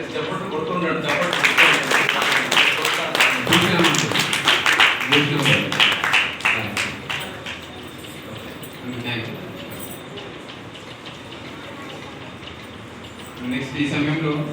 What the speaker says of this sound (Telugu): దయచేసి చప్పట్లు కొడుతున్నాడు